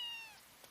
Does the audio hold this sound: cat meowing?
yes